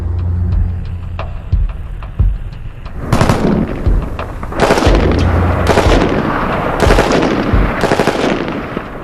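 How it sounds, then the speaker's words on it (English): An M14 rifle fires in full automatic: a few single shots, then loud, close bursts of rapid fire with short pauses between volleys. "Can the M14 pass the helmet test in full automatic?"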